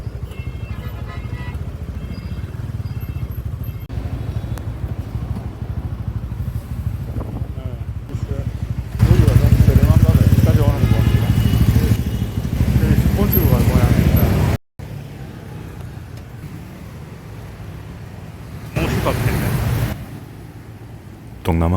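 A motorcycle ridden on a nearly flat tire through Ho Chi Minh City traffic gives a steady engine drone with road rumble that swells louder midway, with talk over it.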